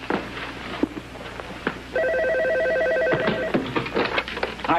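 A red telephone rings in an office, a steady electronic bell tone sounding loud and close for about a second and a half amid quieter room noise and scattered clicks.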